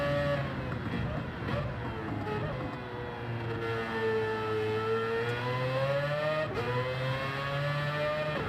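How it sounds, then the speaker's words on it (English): Race car engine in the video game Gran Turismo 7, a steady loud drone with rising and falling harmonic pitch as revs shift, running continuously throughout. "This car is loud."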